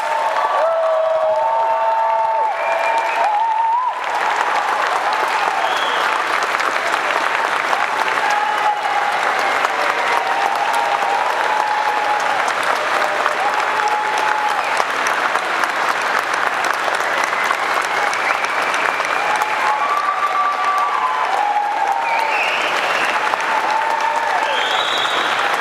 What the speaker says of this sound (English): Please join me in applauding this graduating class.